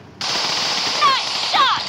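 Automatic rifle fire in PUBG Mobile rips out as a loud, close sustained burst with rapid cracks, during an intense match.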